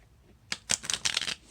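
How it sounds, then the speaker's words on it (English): A tarot card deck being shuffled by hand, a short burst of quick crisp riffling flutters up close after a brief quiet start. "Ooh, I'm really bad at shuffling."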